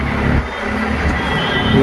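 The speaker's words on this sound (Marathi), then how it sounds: "थोडासा गाड्यांचा आवाज येईल" Steady road traffic noise in a developing area near a market in Nevali, a continuous low rumble of passing vehicles with no distinct breaks.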